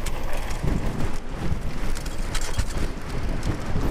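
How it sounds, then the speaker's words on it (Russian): Strong wind buffeting the microphone while riding an electric bicycle downhill on a rough, stony plateau road near a reservoir, a loud continuous roaring rumble with rattling mechanical bumps and no speech. "Такой сильный ветер, что без мотора вел вообще не едет вниз."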